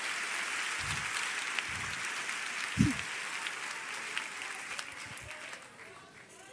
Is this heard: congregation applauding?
yes